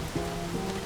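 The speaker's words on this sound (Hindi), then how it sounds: "इतनी बारिश हो रही है" Heavy rain in a film scene, a soft steady wash of rainfall under a faint low hum, continuous and without speech through the brief moment.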